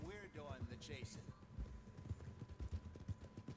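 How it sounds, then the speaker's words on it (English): Steady rhythmic hoofbeats of a race horse galloping in Red Dead Redemption 2, a muffled clip-clop running under overlapping talk. "I got a race horse."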